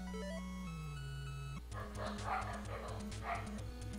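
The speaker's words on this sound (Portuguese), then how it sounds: "Pessoal, desculpa os cachorros" Dogs bark in repeated yips over steady retro Famicom game music with chiptune tones, the barking fairly faint and somewhat distant behind the game audio.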